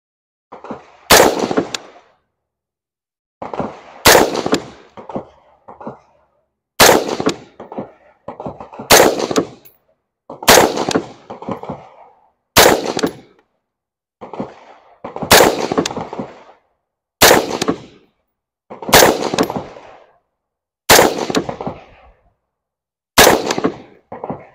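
Rifle fired with iron sights from a standing position, about ten loud sharp gunshots spaced roughly two seconds apart, each followed by brief handling noise and echo, with no talking.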